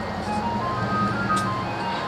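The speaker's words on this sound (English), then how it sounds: "goddamn ice cream truck." An ice cream truck plays its tinkling jingle melody at a moderate distance, with a faint vehicle engine rumbling underneath.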